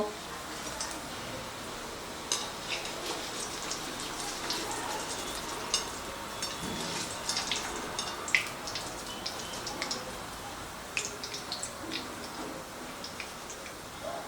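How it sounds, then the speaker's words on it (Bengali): Soft, steady frying crackle of Maggi noodle balls in oil, with scattered ticks and pops, fairly quiet and continuous, no voices over it. "একইভাবে আমি বাকিগুলোকেও ভেজে নেব"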